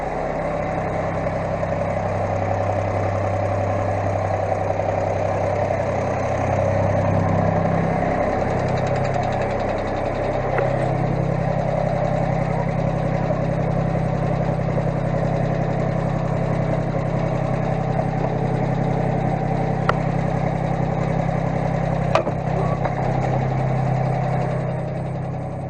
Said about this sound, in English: A little smoky in here because the tractor's running,